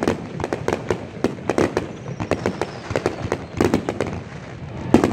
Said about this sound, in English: Big old fireworks show out here at I-75.